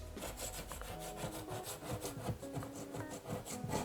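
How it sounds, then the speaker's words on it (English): Leftover adhesive foam is scraped off a wall by hand, making quiet, rhythmic rubbing and scratching strokes that repeat steadily at close range. "Just a teeny bit of foam got right here, so we'll just kind of scrape that off."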